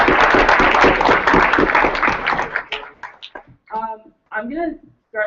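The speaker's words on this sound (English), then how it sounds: "Let's clap it up for Shari really quick." An audience at a Rutgers teach-in claps loudly for Shari in dense applause that tapers off after about three seconds, followed by a voice speaking.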